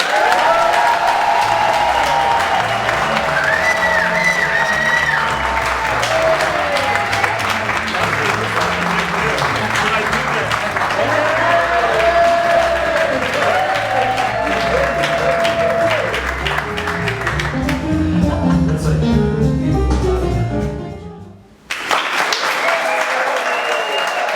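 A studio audience gives a loud, sustained round of applause with some cheering to welcome guest Khaya Dlanga, the clapping steady for about twenty seconds before dropping out abruptly and briefly returning.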